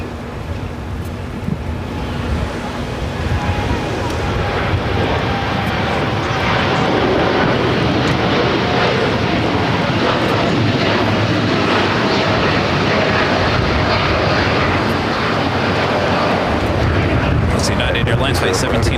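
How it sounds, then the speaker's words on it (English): A Boeing 787-9 Dreamliner jet at Los Angeles airport gives a loud, steady engine roar, broad and sustained throughout with wind buffeting, while a commentator talks over it. "Flight 1704 heading to Newark in a 787-9 Dreamliner"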